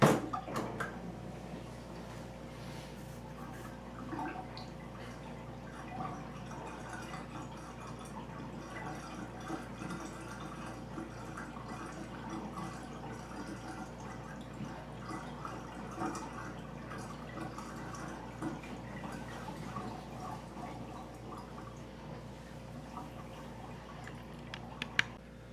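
Washing water drains out of a tub after a wool blanket is cleaned, a quiet, continuous trickling and gurgling flow with faint drips that runs steadily throughout.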